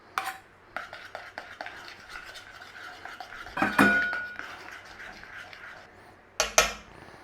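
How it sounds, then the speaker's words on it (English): Gelatin being stirred into a hot chocolate mixture for a flourless chocolate cake, with repeated metallic scrapes and clinks of a utensil against the bowl, building to louder clattering strokes. "we're going to add our gelatin in there and we're going to stir it in"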